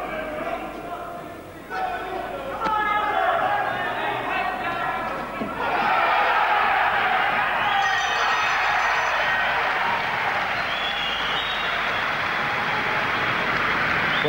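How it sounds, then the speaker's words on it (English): A boxing crowd at the Kostas Petrou vs Ensley Bingham fight roars and cheers between rounds, swelling into a loud, sustained wall of noise under a commentator's voice. "the crowd certainly got themselves warmed up"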